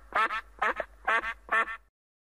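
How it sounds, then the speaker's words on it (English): A duck quacks in four evenly spaced bursts. Each burst is a clear double quack, close and fairly loud, followed by silence. "A duck goes."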